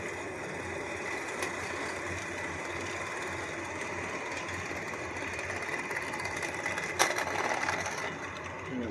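HO scale model New York City subway train, a number 4 line, running on its layout: a steady, quiet mechanical whir and hum with faint clicks, continuous throughout and close by, with a slightly louder clack near the end.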